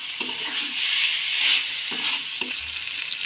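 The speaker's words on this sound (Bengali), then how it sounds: "লবণ হলুদ দিয়ে খুব ভালোভাবে কষিয়ে নেব।" Chicken fries with salt and turmeric in a hot pan, a steady sizzle broken by a few sharp scrapes of a spoon stirring, close and alone with no talk.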